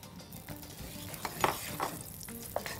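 Homemade ghee (samna baladi) crackling in a small pan, a soft steady sizzle with a few sharper pops and stirring clicks, fairly quiet and close, no talking.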